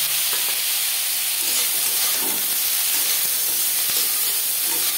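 Bitter gourd frying in a pan, a loud continuous sizzle and hiss that holds steady from start to finish, with faint stirring touches and no voices.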